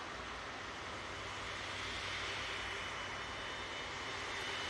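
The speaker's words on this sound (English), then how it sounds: "Virgin Atlantic A380 now on the roll." A Virgin Atlantic A380 jet rolls for takeoff at Manchester Airport, a broad steady engine roar that holds constant throughout at moderate distance, with no voices.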